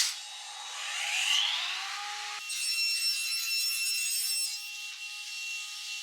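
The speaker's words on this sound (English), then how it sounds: "take these 1/4 inch thick pieces of wood, cut them down to fit exactly in our 2 miter slots" Table saw cutting quarter-inch-thick wood pieces down into miter-slot runners, a steady whining cut with the pitch shifting as the blade enters and the tone settling into a sustained buzz for several seconds.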